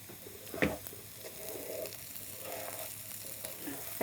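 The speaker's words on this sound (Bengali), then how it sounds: "চালটা বেশ ভাজা ভাজাই হয়ে গেছে, রংটাও চেঞ্জ হয়ে গেছে" Rice fries in a pan with a soft, continuous sizzle. Occasional scraping stirs break through it.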